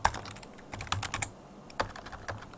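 Quiet, close typing on a computer keyboard, a scattered run of light key taps with short pauses between them.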